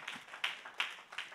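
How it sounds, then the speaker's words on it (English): Hands clapping in a church congregation, a few distinct sharp claps in a steady rhythm roughly every 0.4 seconds, fairly faint and thin, with no talk over them. "That's right, clap your hand."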